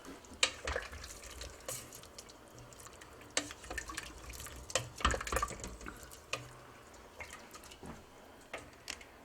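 Heavy cream being stirred into a saffron shrimp soup with potatoes in a pot, giving soft, irregular liquid sloshes and faint spoon clinks at a steady close level, with no talk.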